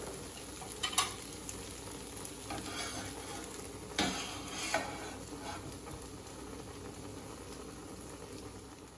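Tofu is gently turned in a hot pan, frying with a soft steady sizzle and a few light scraping clicks from the utensil. No one speaks.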